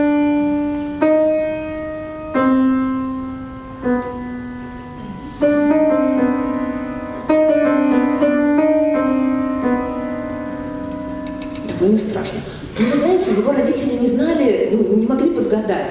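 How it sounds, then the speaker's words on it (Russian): Shostakovich's D-S-C-H monogram motif sounds as a sequence of clear, sustained musical notes, each struck and left ringing, followed by a denser, shifting passage near the end. "Вот Дмитрий Шостакович звучит так"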